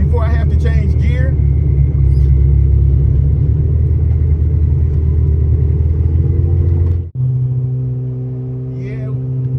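A turbocharged Honda Civic engine under boost, a loud steady droning rumble from inside the car that drops briefly near the end as a gear changes, then resumes lower; a voice talks over it.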